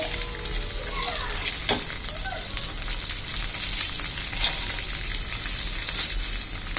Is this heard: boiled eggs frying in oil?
yes